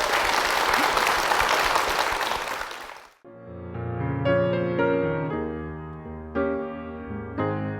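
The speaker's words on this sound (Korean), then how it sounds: "우리 박수로 청해 볼까요?" A church congregation claps in applause to welcome a pastor's sung hymn, a dense steady burst for about three seconds that then gives way to piano music.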